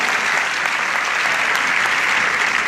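A church congregation claps loudly and continuously, dense sustained applause filling the whole stretch without pause.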